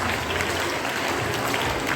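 A brief, even wash of audience applause fills a National Sports Day quiz event, rewarding a team's correct answer about hockey great Major Dhyan Chand.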